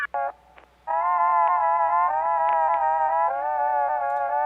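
A soft, pure sine synth plays slow sustained notes in D minor at 100 BPM, halftime, that step down in pitch, washed in gentle reverb, after a couple of short clipped notes.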